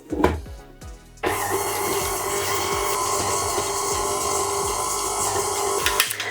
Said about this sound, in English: I'm gonna get that mixing on quite a low speed just to break the butter up a little bit